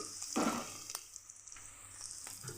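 Chicken frying in a pan gives a soft, steady sizzle, with a brief louder crackle and occasional light clinks of stirring.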